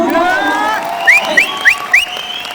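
Audience applause at a career-opportunity presentation event, honoring an official, with a loud burst of clapping and cheering and several sharp rising whistles cutting through near the end.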